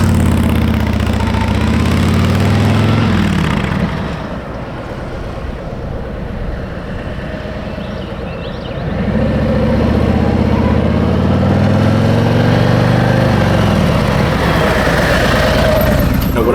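A Harley-Davidson Road Glide 3 trike with the 114 engine runs loudly up close, a deep steady rumble that softens for a few seconds midway and then swells back to full strength.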